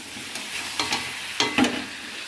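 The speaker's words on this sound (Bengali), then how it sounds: "তাই এই যে মটন কষা হচ্ছে" Mutton sautéing in a pan as its fat renders, a soft sizzle broken by a few distinct stirring scrapes and clinks.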